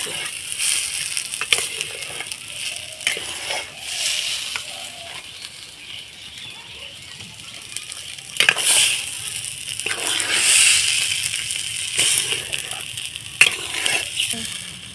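Taro paste with spices stirred and fried in a pan until its water dries off, giving a steady close sizzle under repeated scraping stirs, with no talk.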